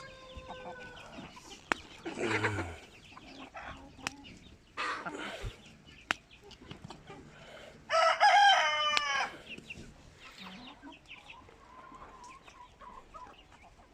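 Backyard chickens cluck and a rooster crows loudly twice during feeding, with scattered sharp clucks and bird calls in between and a brief murmured voice.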